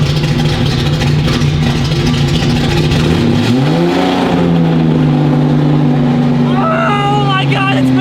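Long-abandoned Datsun 280Z engine running and revving as the car begins to move, a loud continuous rough drone that climbs in pitch midway, with people talking excitedly over it.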